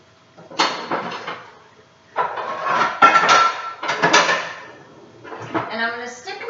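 Metal cookware clatters in a home kitchen as another frying pan is pulled out while fish cooks, several bursts of clanking and scraping close by, separated by short pauses.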